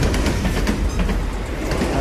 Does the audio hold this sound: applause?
no